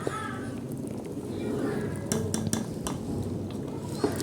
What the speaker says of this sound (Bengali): এটা পুরো সব সময় কন্টিনিউ নাড়াচাড়ার মধ্যে রাখতে হবে, নিচ থেকে যাতে লেগে না যায়।